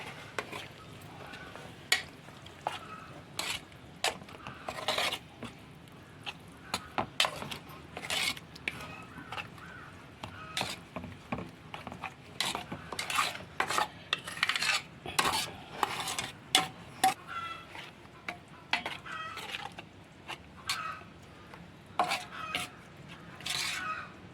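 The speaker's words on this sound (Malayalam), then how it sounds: "നമുക്ക് തൈര് പാകത്തിന് ഒഴിച്ചു കൊടുക്കാം നമുക്ക് നന്നായി ഇളക്കി യോജിപ്പിക്കാം" Curd being stirred into beetroot pachadi with a spoon in a bowl: quiet, irregular clinks and scrapes of metal on the dish, close and soft, repeating throughout with pauses between strokes.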